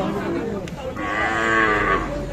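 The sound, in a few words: calves and cattle mooing at a cattle market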